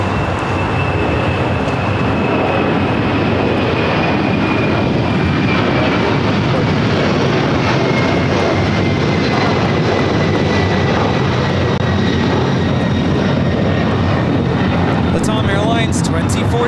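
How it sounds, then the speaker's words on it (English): A Luton Boeing 767 jet rolls for takeoff on runway 25 right at LAX, a loud, steady broadband engine roar filling the whole stretch, with people talking over it. "We now have the Luton 767 rolling on 25 right."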